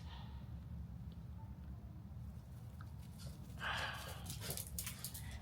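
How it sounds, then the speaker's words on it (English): Dogs moving about an outdoor backyard in Texas, with soft snorts, panting and brief whimpers close by over a steady low background rumble, a slightly louder flurry of activity near the end. "I am outside in the backyard with my dogs."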